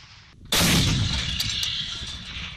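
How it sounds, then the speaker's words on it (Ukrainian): Artillery fire from 152-mm D-20 howitzers and mortars at a military firing exercise: a single loud, sharp blast that rolls into a long, decaying rumble with faint distant echoes and no talk. "Стрільби зведених підрозділів проходили із застосуванням 152-мм гаубиць Д-20 реактивних систем град, мінометів калібру 82 та 120 мм"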